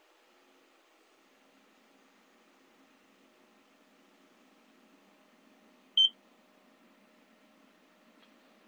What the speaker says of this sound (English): You heard that beep.